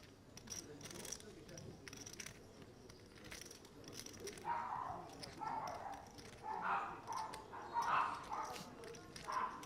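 Small dogs yap and bark in a quiet casino room at a poker tournament final in Northern Cyprus, with a few faint, sharp barks repeating in the second half over low background murmur.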